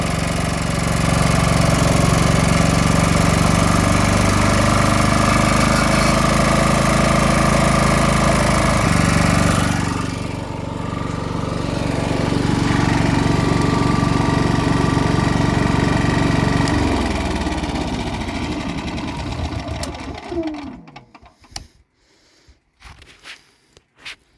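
A small engine idles loudly and steadily while its idle screw is adjusted, the tone shifting as the speed changes, then it winds down and cuts out near the end, leaving only faint handling noises.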